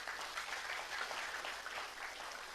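Audience applause at a poetry recital, a steady wash of many hands clapping heard at a distance and fairly faint, sustained evenly throughout.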